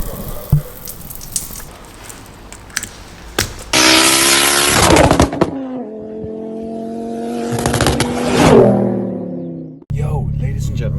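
A Mk2 Ford Focus ST fires up early in the morning, a sudden loud flare of engine noise that settles into a steady, droning idle close by, then cuts off abruptly.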